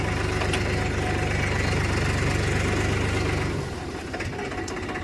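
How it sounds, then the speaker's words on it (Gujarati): A tractor engine idles close by in a farm field with a steady low throbbing rumble that drops in level and roughens near the end, as if being shut down. "હાલો બંધ કરી દઈએ ટ્રેક્ટરને"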